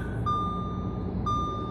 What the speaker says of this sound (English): That's just the old car telling me to put my seatbelt on.